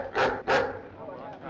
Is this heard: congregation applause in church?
no